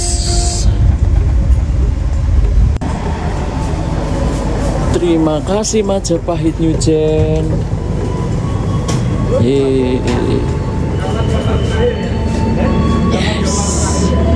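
The KA Majapahit New Generation economy train rumbles into Pasar Senen station on track 4, a continuous loud rolling roar with tonal squeals and a chime, while a voice speaks over an announcement.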